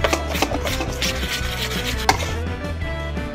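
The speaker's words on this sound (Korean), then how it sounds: "그래가지고 되게 반죽을 하도록 하겠습니다" Thick batter mixed by hand with added flour until dense like bread dough, giving repeated close scraping, rubbing and slapping sounds in an uneven rhythm, with no talking.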